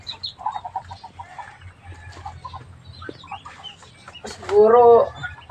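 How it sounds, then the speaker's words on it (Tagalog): A newly hatched chick peeps in faint, repeated high chirps, with one louder cheep near the end, among soft background rustling and low murmuring voices. "Bagong pisang sisiw."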